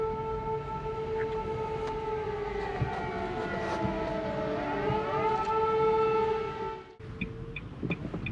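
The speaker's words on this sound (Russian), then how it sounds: "Под звуковое сопровождение сирены воздушной тревоги." An air raid siren wails steadily in the distance, its tone slowly rising and falling over several seconds before cutting off abruptly.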